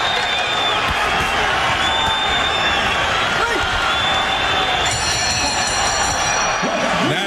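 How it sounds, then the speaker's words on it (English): Boxing crowd at the Lennox Lewis vs Ray Mercer fight gives a sustained standing ovation as the bout ends, a loud continuous roar of cheering and applause with a commentator talking over it. "The crowd gives a good standing ovation"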